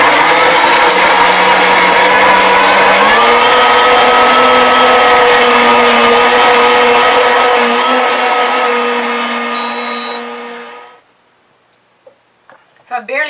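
A high-speed blender with a wooden tamper runs a 35-second cycle on raw vegan tarragon and mustard cheese, a loud, steady motor whine with a shift in pitch partway through, then cutting off into near silence with a few small knocks.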